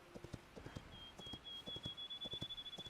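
Horse hooves clip-clopping in the video game Hytale, a steady run of close, distinct hoof beats that quickens toward the end, with a thin high tone running underneath.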